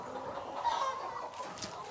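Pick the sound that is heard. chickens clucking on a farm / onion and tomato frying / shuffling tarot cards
chickens clucking on a farm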